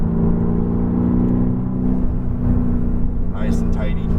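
Mercedes-AMG GT R accelerating on a race track, a steady droning engine note held under throttle from inside the car, with an instructor's voice talking over it throughout.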